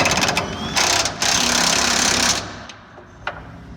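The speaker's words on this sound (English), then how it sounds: "I'm just snugging them up with the impact." Impact wrench snugging up bed bolts on an LB7 Silverado during a bed swap, a loud continuous rattling hammer burst close by, cutting off into quieter shop ambience.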